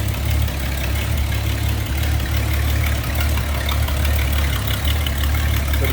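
A 1968 Ford Mustang Coupe's inline-six engine idles steadily up close, a low, even rumble with a slight rhythmic pulse and no voices.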